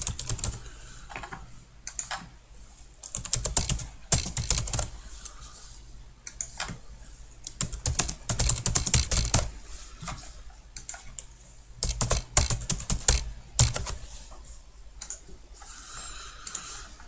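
Quiet bursts of rapid key clicks from someone typing on a computer keyboard, coming in irregular clusters separated by short pauses.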